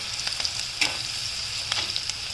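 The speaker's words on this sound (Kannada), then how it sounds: "ನೋಡಿ ಈಗ ಹಸಿಮೆಣಸಿನ್ಕಾಯಿ ಹಾಕ್ತೀನಿ" Green chillies sizzling in hot oil in a pan while potato palya is cooked, a steady close crackle with a few brighter stir clicks and pops, no voices.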